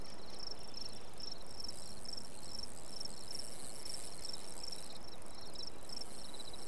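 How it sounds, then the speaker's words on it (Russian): A cricket in the fishing game Russian Fishing 4 chirps in steady repeating pulses over a constant hiss of outdoor night ambience, with no voices. "Не, это сверчок звенит."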